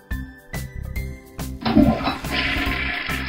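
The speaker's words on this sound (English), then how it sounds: "Then we have to flush the potty." A toy potty flushes with a bright electronic whoosh of water that starts after a few short tones and keeps rushing steadily to the end, loud and close, with no voices.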